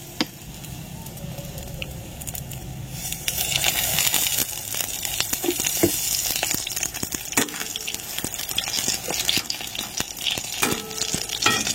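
Eggplant slices frying in oil in a pan, a steady close sizzle that grows louder partway through, with stirring clatter and scraping throughout; no voices.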